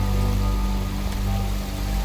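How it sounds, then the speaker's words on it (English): Water leaking through a roof and pouring down indoors, a steady splashing rush under a constant low mechanical hum, with no talk. "See, we've got a waterfall just above my head there."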